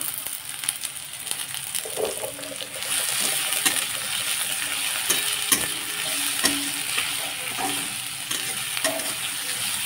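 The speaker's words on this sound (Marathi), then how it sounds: "तर याला आता छान तांबूस कलर येईपर्यंत तरी आपण याला भाजून घ्यायचं" Onion, garlic and a little ginger frying in a small amount of oil, a steady loud sizzle with the clink and scrape of stirring, fairly close.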